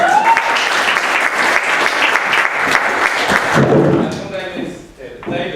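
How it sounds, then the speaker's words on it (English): A live talk audience applauds a volunteer coming up on stage, a full, loud burst of clapping lasting a few seconds that then thins as a voice starts talking. "Give a round of applause as we go."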